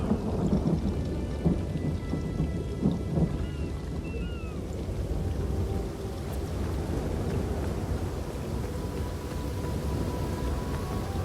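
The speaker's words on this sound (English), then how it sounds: "Now there's a new storm brewing" Thunderstorm with steady heavy rain in the Elder Scrolls Online game world, a continuous dense downpour with low rumbling thunder rolling underneath throughout, fairly even in loudness.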